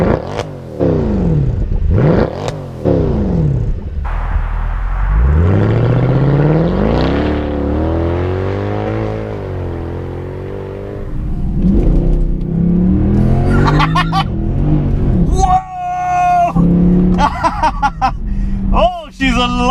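A 490 bhp Mercedes C63 AMG accelerates hard, its engine note climbing and falling through several rising sweeps and gear changes, loud and close, while someone talks over it at times.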